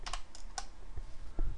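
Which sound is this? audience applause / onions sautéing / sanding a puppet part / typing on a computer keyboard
typing on a computer keyboard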